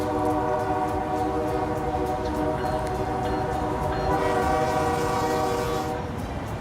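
A train rolls through Fort Collins, its horn sounding one long, loud, steady blast close by over the heavy rumble and rattle of the passing cars, with the blare easing slightly near the end and no voices present.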